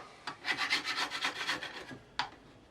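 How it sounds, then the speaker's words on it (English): A putty knife scrapes homemade firestarter off a wooden board in a quick series of rough rasping strokes, followed after a short pause by one final scrape. "Just got a putty knife here, and we'll just do that"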